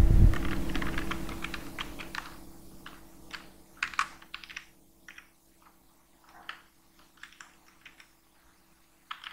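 Keys clatter on a computer keyboard as Python code is typed, with irregular bursts of close clicks and short pauses between them, alone and fairly crisp.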